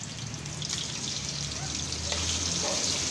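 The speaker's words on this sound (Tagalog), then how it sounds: "iprito ko na yung tilapia" Tilapia sizzles and crackles steadily in hot oil, a continuous close frying hiss with a few faint clinks.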